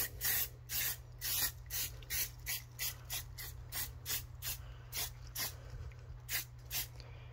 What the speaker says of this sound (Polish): leciutko napylamy, leciuteńko naprawdę